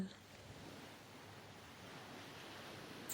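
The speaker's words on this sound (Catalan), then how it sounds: "Aixeques el cap i veus el mar." A calm sea washes gently onto a shore in a soft, distant rush of surf, faint and steady, with light wind noise.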